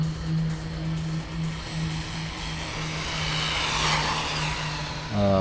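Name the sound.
RC car accelerating at full throttle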